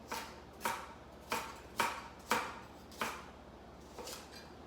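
A kitchen knife chops through carrots and parsnips on a board in about seven crisp, evenly spaced strokes, close and clear with no talking.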